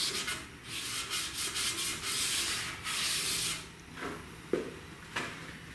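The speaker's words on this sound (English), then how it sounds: "we're just going to try to wipe down this edge a little bit" Cloth wiping and rubbing along an engine-bay edge of a V8 Crossfire project car to clear off dirt, in repeated close scrubbing strokes with short pauses and a sharper tap near the end; no talking.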